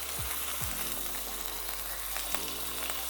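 Chicken breasts sizzle steadily in a hot pan, a close, continuous frying hiss with a couple of soft thuds early on as pieces are flipped with tongs.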